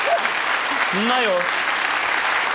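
A studio audience at a 1996 television talk show applauds in a continuous, even burst of many hands, with a voice speaking briefly over the clapping.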